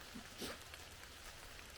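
Light rain falls in a forest during mushroom picking, a soft steady hiss of drops with a few faint rustles and no talking.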